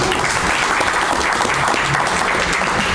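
An outdoor press conference crowd in downtown Little Rock gives a dense, steady round of applause for the Ward 1 city director, loud and continuous throughout with no break.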